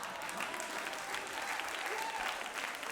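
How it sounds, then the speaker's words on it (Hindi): Dense crowd applause from a large audience at a Hindi political speech, a steady wash of many hands clapping at full strength throughout with no pauses. "एक बार जोरदार तालियां मोदी जी के लिए"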